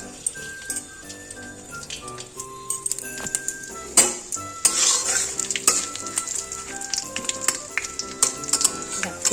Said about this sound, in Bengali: ফোড়নটা একটু ভাজা ভাজা হোক,